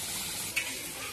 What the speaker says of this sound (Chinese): 这姜蒜豆瓣泡海椒一下锅，看那颜色来了